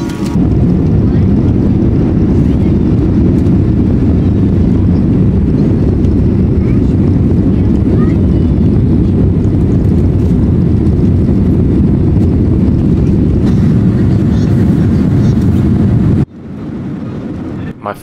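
Boeing 787 airliner cabin during pushback and takeoff at London Heathrow, a loud steady engine roar and rumble that holds for most of the clip before cutting off abruptly near the end.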